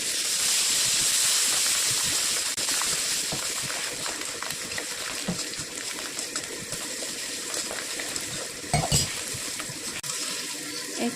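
Curry leaves and green chilies sizzle in hot oil, a loud, steady hiss and crackle up close that eases off slightly over time, with a few sharper spits and stirring clatters.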